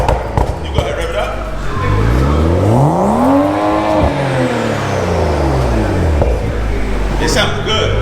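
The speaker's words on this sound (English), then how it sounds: "All right, you can go ahead and rev it up." A BMW 435i fitted with a Vibrant resonator exhaust revs up once in sport mode, climbing to a loud, rising peak, holding briefly, then falling back to idle, heard close with people talking around it.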